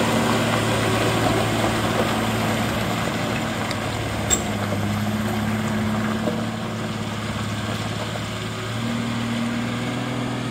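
A lorry engine strains under a 50-ton load, a loud low steady drone with a shifting tone, continuous and close, with a few faint clicks over it and no talk.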